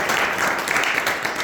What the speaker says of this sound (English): join us in a round of applause for these great speakers